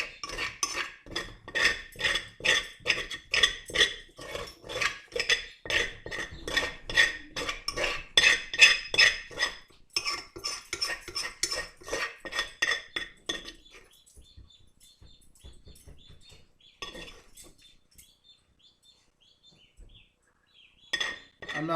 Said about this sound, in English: Need a little spoon like a scraper here.